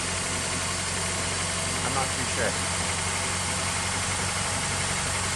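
A 1999 Honda car engine idles steadily after sitting for a long time, a constant mid-range hum running throughout at close range, with a person talking briefly over it.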